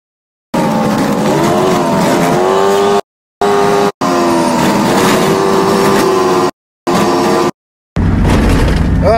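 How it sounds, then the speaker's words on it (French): Loud roaring car engine rising and falling in pitch, broken by short silent gaps, ending with a harsher burst of engine noise. "vous m'entendez avec le bruit de la voiture?"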